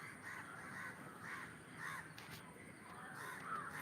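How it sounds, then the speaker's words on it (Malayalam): Crows cawing outdoors in repeated harsh calls, several spaced bursts over a steady background hiss, moderately distant and fairly faint. "പറവകളതാ പറന്നു പോകും കാണുന്നുണ്ടോ"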